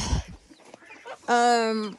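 A chicken gives a long, drawn-out harmonic call near the microphone after some soft, scattered clucks and rustling at the start.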